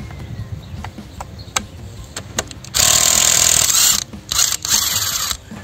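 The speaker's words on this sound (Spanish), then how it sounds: "Vamos con la llave de impacto" A pneumatic impact wrench hammers loose bolts on a 47-year-old Ford Falcon 187 engine, with a sustained loud rattling burst followed by two shorter bursts, after quieter clinks of workshop handling.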